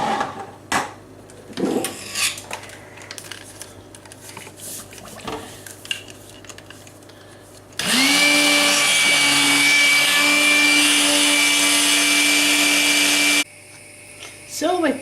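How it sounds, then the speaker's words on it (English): An electric blender whirs steadily for several seconds, blending leek and Stilton soup in a home kitchen; a loud, sustained motor drone starts abruptly and cuts off just as abruptly, following clinks of pots and utensils. "give it a whiz with the blender"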